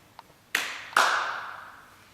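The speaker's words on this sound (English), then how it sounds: "clap your hands" Two sharp hand claps land about half a second apart, close and distinct, ringing out in a quiet room after a faint tap.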